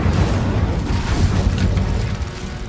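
The Incendio fire spell in Hogwarts Legacy bursts out as a loud, rumbling blast of roaring flame with deep booming body, sustained and dense throughout.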